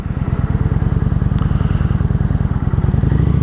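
Cruiser motorcycle being ridden, a loud close engine with a fast, even pulsing thump and a rough rumble, steady throughout with a little rattly clatter on top.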